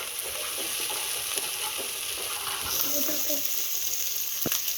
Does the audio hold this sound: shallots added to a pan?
yes